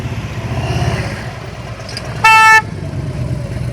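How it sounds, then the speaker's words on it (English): A car horn gives a single loud, short honk over the low rumble of an idling vehicle engine during a driving practice session. "You honking at that cone"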